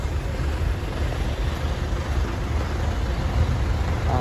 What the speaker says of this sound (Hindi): अहमदाबाद में काफ़ी ज़्यादा ट्रैफिक है, काफ़ी ज़्यादा ट्रैफिक है, आपको दिखाता हूँ।